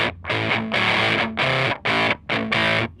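Electric guitar with humbucker pickups pushed through a distortion pedal, chugging saturated chords played in short, punchy bursts separated by brief gaps, loud and close with no talking.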